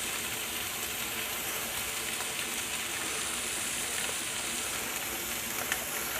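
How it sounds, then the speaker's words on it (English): Butter sizzles in a hot pan beside pork sirloin steaks, a loud, steady, close crackling hiss that runs unbroken with no talk. "And I'm gonna throw some butter in there."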